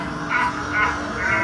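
A crow caws three times in a steady, evenly spaced series against low background ambience on a Halloween night at Burnaby Village Museum, each call moderately loud and fairly close.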